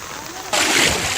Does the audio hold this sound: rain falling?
yes